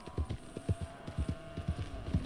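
Horse hooves clip-clop in Red Dead Redemption 2, a quick, even run of soft thuds at a steady trot over a low hum.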